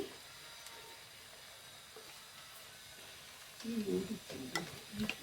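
Turmeric and chilli powder frying in oil give a soft, low sizzle with a few stirring clinks and scrapes toward the end, faint and close.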